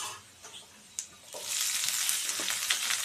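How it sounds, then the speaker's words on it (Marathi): Bitter gourd pieces hit a hot pan and burst into a loud, steady sizzle of frying that carries on to the end, after a few quieter clinks and rustles. "ह्या स्टेजला आपण याच्यामध्ये कारलं टाकून छान फ्राय करून घेणार आहोत"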